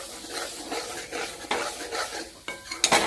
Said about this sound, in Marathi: हे बघा आता हा मसाला आहे ना आता छान परतून घे।